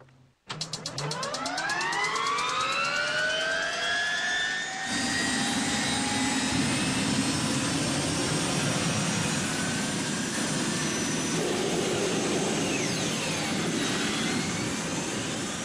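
A turbine-powered Y2K motorcycle engine spools up with a rising jet-like whine, then settles into a loud, steady roar with a high-pitched howl, close by.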